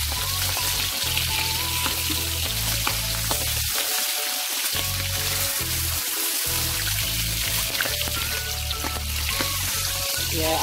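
Salmon fries in a pan alongside a honey lemon preparation, giving a constant loud sizzle with occasional stirring and scraping sounds and brief dips in the crackle.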